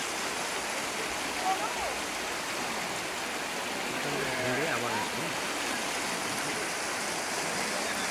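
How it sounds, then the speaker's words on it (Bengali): Steady broadband rush of the Murti River flowing, a continuous wash of moving water heard close and alone, with faint voices surfacing briefly in the middle. "বিহোল্ড মূর্তি রিভার।"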